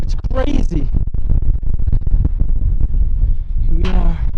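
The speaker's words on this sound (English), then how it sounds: "It's so windy up here." Strong wind buffets the microphone near a wooded mountain summit in the Appalachians, a steady loud low roar running throughout, with a voice speaking briefly at the start and end.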